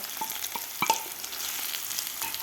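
Spring onion and ground masala paste sauté in a pan, with a close, steady sizzle broken by a few sharp scrapes and taps of the stirring spoon.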